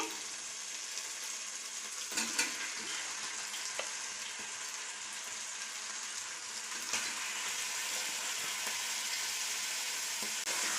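Chicken gizzards fry in a pan, giving a steady, dense sizzle that holds close and even throughout, with a few faint clinks of stirring and no talk.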